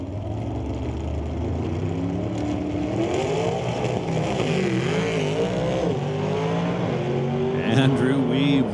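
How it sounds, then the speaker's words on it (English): A 1947 Austin drag racer at an old-time drags meet, its engine rising and dropping in pitch as it climbs through successive gears, loud and sustained, with faint voices underneath. "Andrew Weeb rowing through the gears in that little Austin, racing towards his own wind light"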